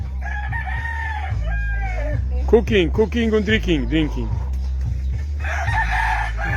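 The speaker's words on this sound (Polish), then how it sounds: "I taki mam koguta." A fighting rooster crows loudly nearby in a Philippine slum, repeated calls rising and falling, while people talk over the crowing.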